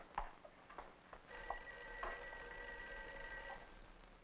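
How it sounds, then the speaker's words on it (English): Old telephone bell ringing indoors in an office in a 1959 film, a sustained bright ring starting partway through at moderate volume, preceded by a few soft clicks and taps. "I think your phone is ringing"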